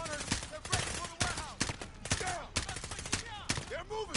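Gunfire in Modern Warfare, sharp shots cracking out at a steady rate of roughly two per second, loud and close, with high whistling whines between them and faint speech underneath.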